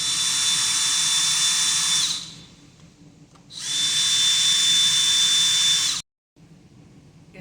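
A power drill with an 8mm socket backs out the bolts holding a motor to a gearbox on a dewatering press, two loud sustained whirring runs separated by a short pause, then a quiet tail.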